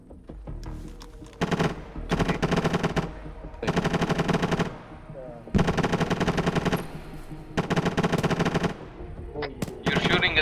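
Video game gunfire in a military shooter comes as bursts of rapid automatic fire, several long volleys separated by short pauses, loud and close, with brief talk in between.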